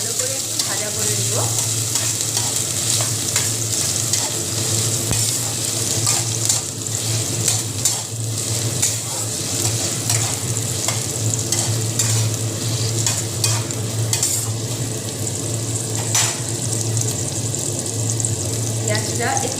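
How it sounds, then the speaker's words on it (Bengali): Chopped onion sizzling in oil in a home kitchen pan, a steady loud fry with intermittent scraping and stirring strokes throughout, a voice speaking at times. "পেঁয়াজটাকে ভালো করে একটু ভাজা করে নেব।"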